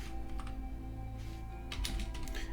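Fingers type Python code on a computer keyboard, quick faint clusters of key clicks in an uneven rhythm with a slightly busier burst toward the end, over a low hum and no speech.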